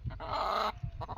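A hen on open village grazing land gives a single drawn-out squawking cluck followed by a few short faint notes, quiet and somewhat distant.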